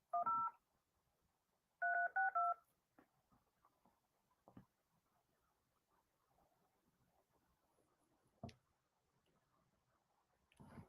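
Telephone keypad dialing tones from a phone call being placed: two short bursts of DTMF beeps, one quick pair then a faster run of several, over a quiet background with faint clicks and a sharp tap later.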